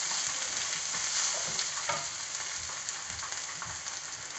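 Onions crisping in oil with curry leaves and spice powders going in, a bright, steady sizzle with soft stirring scrapes, no one talking.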